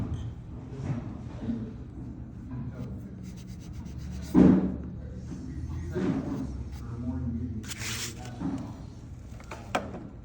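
Nonshrink patch is scrubbed and packed into nail holes with repeated soft rubbing and scraping strokes and a few firmer pushes, while a voice talks intermittently.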